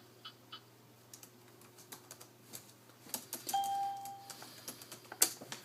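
Keys clatter on a ThinkPad T21 laptop keyboard in irregular close bursts of light taps, with a brief electronic tone partway through.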